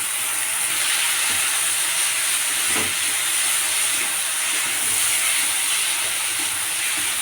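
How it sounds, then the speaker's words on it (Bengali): Drained pasta tipped into a hot pan of tomato sauce, giving a steady, close sizzling hiss that holds for the whole stretch, with a faint clunk partway through and no talking. "এরপর জল ঝরিয়ে রাখা পাস্তাটা দিয়ে দিলাম।"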